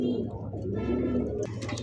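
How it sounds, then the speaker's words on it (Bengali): A single pigeon at a seller's loft gives a soft, low cooing phrase close by, ending with a faint rustle. "এখানে কিন্তু সিঙ্গেল একটা কবুতর দেখা যায়"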